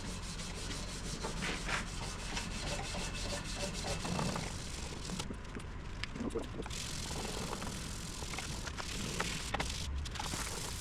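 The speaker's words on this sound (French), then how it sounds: "Là, on est rendu au ponçage à l'eau." Steady wet sanding of a homemade chef knife blade with 400-grit sandpaper and water, a continuous close rubbing scrape with uneven strokes throughout, no speech heard.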